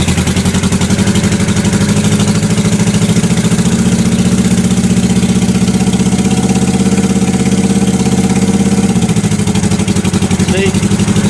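A cold 1977 Yamaha XS motorcycle engine idles loud and close, with a steady, rapid mechanical throb that holds throughout and shifts slightly in pitch near the end.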